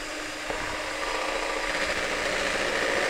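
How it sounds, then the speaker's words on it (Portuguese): A stand mixer whirs at high speed whipping egg whites, a steady bright buzzing drone that holds constant and close with no talk. "Enquanto a nossa clara está finalizando na batedeira"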